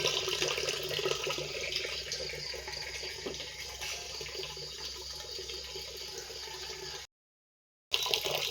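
Steady rushing of water running from a tap, continuous and fairly close, with a brief dropout near the end before it resumes.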